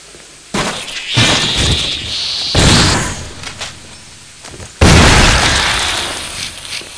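Gunfire in the Resident Evil video game: two sharp, loud bursts with crackling, shattering decays, the first around half a second in and the second near the five-second mark, separated by a quieter stretch carrying a high tonal whine.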